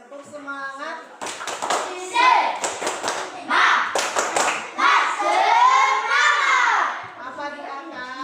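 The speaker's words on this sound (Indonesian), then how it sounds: "Kita tepuk semangat dulu supaya lebih semangat belajar. Tepuk semangat." Schoolchildren in a classroom perform a rhythmic encouragement clap, sharp bursts of hand claps in a patterned sequence interleaved with their chanting voices, close and lively.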